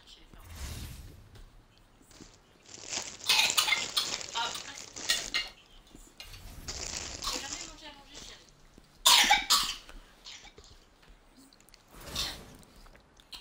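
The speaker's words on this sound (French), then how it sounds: "Quand c'est trop gros, ça fait tousser." A person coughs several times at a dinner table after eating a peppery dish, with clinking cutlery and dishes and people talking around the coughs.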